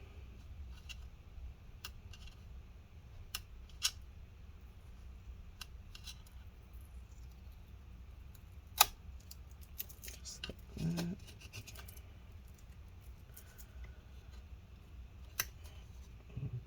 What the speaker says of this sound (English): continue scraping up and peeling up